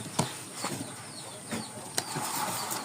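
A pair of pigeons beat their wings in several short, sharp flurries close by, separate bursts of flapping spaced over a few seconds against a quiet background.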